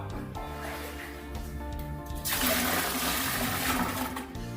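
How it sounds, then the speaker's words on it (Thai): Water poured from a container into a toilet bowl that has just been unclogged, a steady splashing pour that swells louder and fuller partway through, with faint background hum. "เราก็ราดน้ำลงไปก่อนครับ"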